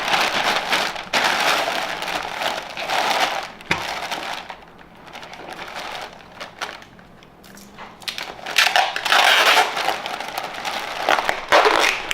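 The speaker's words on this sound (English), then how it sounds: "Wrap it around real tight so it doesn't touch the glass or anything." Packing paper crinkles and crushes as it is wrapped tightly around a glass jar, coming in loud, dense bursts with a quieter stretch in the middle and no talking.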